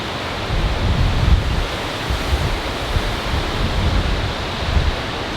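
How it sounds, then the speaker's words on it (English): Strong, gusty autumn wind in Ontario roars continuously in the microphone near corn stalks, a dense rushing noise that swells in loudness. "It's kind of blustery out today."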